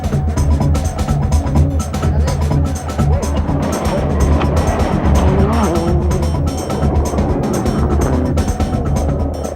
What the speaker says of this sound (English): Didier Auriol driving at his best